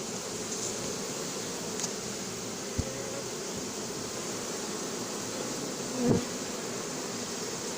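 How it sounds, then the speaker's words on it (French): A swarm of honeybees hums steadily outdoors during a swarm capture in Soignolles-en-Brie, a soft continuous drone with a few faint knocks. "On voit les abeilles monter."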